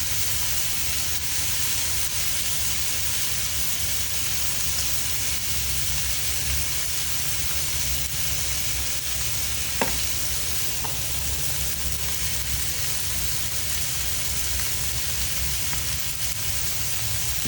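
Steaks searing in a hot pan, a dense, continuous hiss and sizzle heard close up, with one brief tap partway through and no voices.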